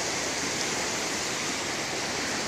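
A sun-dappled river flows in an even, continuous rush, steady broadband water noise with no breaks or voices.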